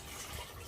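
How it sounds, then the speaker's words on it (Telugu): Water poured into an idli steamer pot, a brief, steady splashing pour heard faintly and on its own with no talk. "ఇడ్లీ పాత్రలో వాటర్ పోసేసుకున్నాం,"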